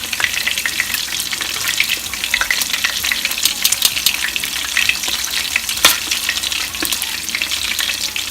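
Bacon-wrapped cheesy poppers fry in a pan, giving a steady, loud, close crackling sizzle with dense popping spatters throughout and no talking.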